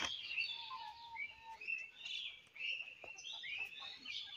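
Pigeons and quails in a farm coop give a string of faint high chirps and short calls, scattered and fairly distant over quiet background, with no talking.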